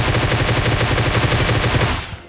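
Dense, continuous automatic gunfire from a PUBG match, a loud sustained rattle of rapid shots lasting about two seconds before cutting off and fading.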